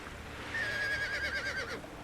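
A horse whinnies in the Conan Exiles video game, a moderately loud, wavering neigh lasting about a second over a faint steady background, with no talk.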